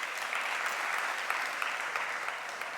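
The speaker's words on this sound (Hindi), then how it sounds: "ताली बजाइए।" Steady applause from an audience at a Jain monk's religious discourse, a dense even patter of many hands clapping throughout, fairly close and sustained with no voices.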